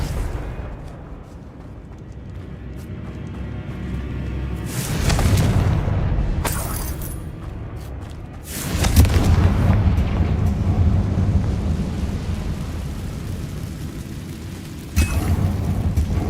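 Confringo blasting spells explode in a Harry Potter video game, giving deep, rumbling booms that swell around five and nine seconds and again near the end over a low, continuous roar, with no talking.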